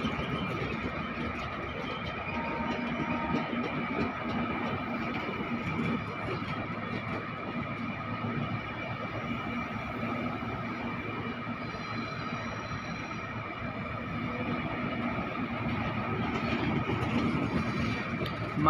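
The 20501 Agartala–Anand Vihar Terminal Tejas Rajdhani Express sits at Malda Town station, giving a steady, even rumble and hum with a faint squeal, with no voices.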